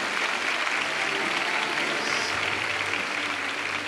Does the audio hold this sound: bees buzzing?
no